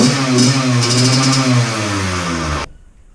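A 2-stroke dirt bike engine runs loud and close after a muffler repack, its steady buzzing tone dipping slightly in pitch before cutting off abruptly near the end.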